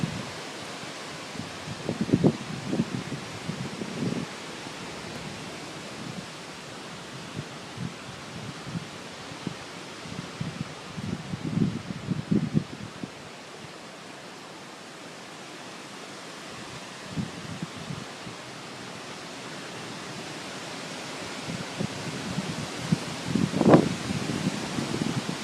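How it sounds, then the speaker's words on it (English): Storm wind gusts through trees, a steady broadband rustle and roar that swells in several gusts over about twenty-five seconds, with no talking. "A lot of wind. Nope, another gust coming."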